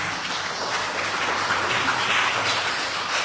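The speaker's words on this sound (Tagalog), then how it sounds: "Palakpakan natin ang Panginoon." A church congregation applauds during a United Pentecostal worship service, a steady, fairly loud wash of many clapping hands with no pauses.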